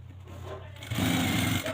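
A sewing machine runs stitching the back pocket of a pair of trousers, a steady mechanical whir that grows louder and busier after a short quieter start.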